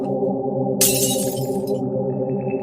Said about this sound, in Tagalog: Basag ang salamin. Natapon lahat ng gaas.